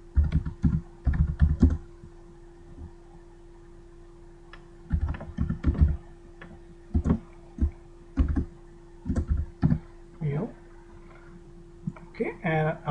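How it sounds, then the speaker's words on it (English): Keys on a computer keyboard, including the tab key, are tapped in scattered clusters of sharp clicks over a faint steady hum, sometimes single presses and sometimes quick runs. "I'm basically clicking the tab to get the new row"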